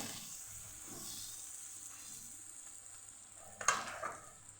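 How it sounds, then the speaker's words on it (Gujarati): Karela and onion curry frying in a pan, Kathiawadi style, with a steady soft sizzle and hiss and a few stirring scrapes, one sharper clatter near the end. "બે ત્રણ વાર આપણે હલાવશું શાકને"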